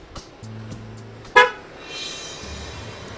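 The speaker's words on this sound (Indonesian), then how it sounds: "klakson-klakson bilang mau lewat" A car horn gives one sharp, loud honk on a street after a low engine drone, followed by the rumble of a vehicle moving past.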